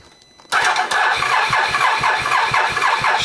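A Can-Am Renegade ATV engine with a new exhaust cranks and catches after a short quiet moment, then settles into a loud, close, rhythmic idle with regular pulsing beats.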